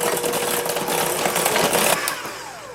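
An electric mixer whirs steadily and loudly as it beats melted butter, eggs and vanilla in a bowl for pumpkin muffin batter, a continuous motor drone that eases off near the end.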